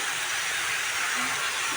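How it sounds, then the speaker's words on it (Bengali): A pressure cooker cooking dal vents steam in a steady, continuous close hiss that stays even and unbroken throughout. "ডাল বসিয়েছি কুকারে"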